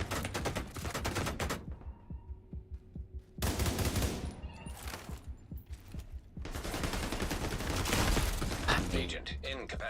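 Gunfire in the shooter game The Division 2 comes in loud rapid automatic bursts with mechanical clatter, broken by short pauses, with a player talking at times over the shooting.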